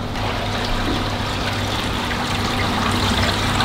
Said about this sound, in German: das Wasser kommt jetzt durch diese neue Konstruktion in den Fließfilter rein und wird dann ins Technikbecken geleitet